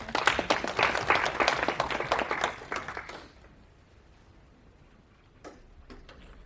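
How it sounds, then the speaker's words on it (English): A roomful of people at a data protection law conference claps briskly for about three seconds, then the applause stops abruptly, leaving near-silence with a few scattered faint clicks. "I want each one of us here to give each other a clap, and a clap for everyone in the room"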